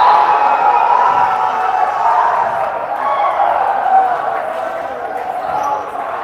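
A rowdy crowd on the men's side of a volleyball gym at Kerr Hall during a Toronto Premier League match, a dense, loud roar of many voices and cheering that holds steady throughout.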